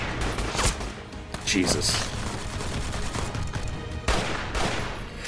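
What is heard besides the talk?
Type 57 Chinese assault rifle gunfire in a video game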